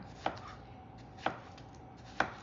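Knife chopping food for a watermelon salad on a cutting board, three crisp evenly spaced chops about a second apart, close and clear over faint background hiss.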